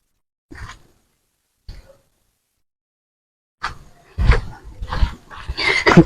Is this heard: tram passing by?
no